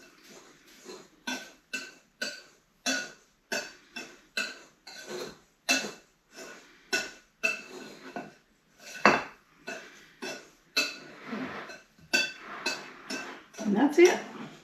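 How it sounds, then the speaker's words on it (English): A wire whisk with closely spaced tines clatters against a bowl while mixing sugar and a seasoning blend, giving a steady run of quick, sharp scraping strokes, fairly close and clear, with no talking. "now I use a whisk that has tines that are pretty close together"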